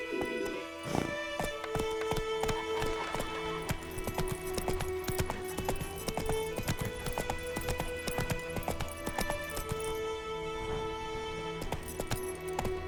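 A horse clip-clops at a fast rhythmic gallop in The Witcher 3, with quick repeated hoofbeats over a steady bed of game music and ambience.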